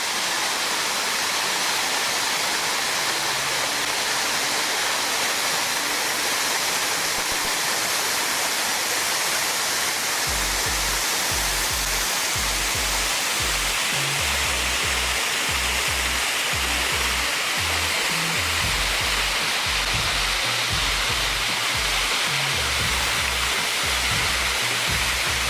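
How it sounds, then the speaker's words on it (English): An outdoor waterfall pours into a pool below, a steady broadband roar throughout, with a low rumbling pulse joining from about the midpoint. "Nice waterfall."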